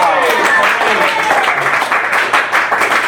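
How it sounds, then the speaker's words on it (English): Class participants clap for David at a weekend NLP practitioner course, a loud, close burst of many hands clapping with voices calling out over it. "give David a huge round of applause"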